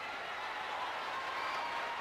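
Steady roar of an indoor basketball arena crowd at a Manila Metrostars versus Cebu Gems game, a dense continuous wash of cheering and clapping with no breaks.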